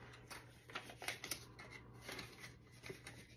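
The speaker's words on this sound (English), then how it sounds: "I'm going to try to stuff my envelopes as I go." Paper cash bills rustle and crinkle as they are handled and stuffed into envelopes, soft close-up flicks and shuffles in quick irregular bursts with no talking.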